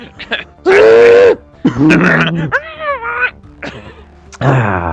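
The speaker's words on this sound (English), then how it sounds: "need to clear my throat." A man clears his throat with several rough, voiced bursts close to the microphone, separated by short pauses.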